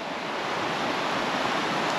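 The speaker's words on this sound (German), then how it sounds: "Und ein kleiner Wasserfall." A small waterfall in a beaver nature reserve, a steady, dense rushing of water that stays constant and fairly close throughout.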